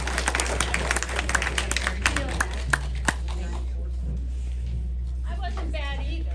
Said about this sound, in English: I just think we need a nice round of applause for them.